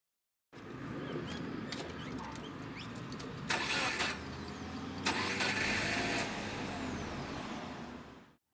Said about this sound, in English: the car engine starts